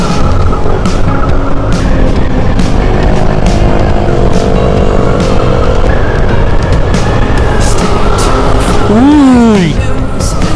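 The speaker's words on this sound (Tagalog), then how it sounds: "Apat na motor kami." A group of four motorcycles, including a Honda PCX scooter and a Yamaha Sniper, riding together near Taytay Bridge in Infanta, Quezon, a loud close engine drone with wind, a sharp sweeping squeal near the end.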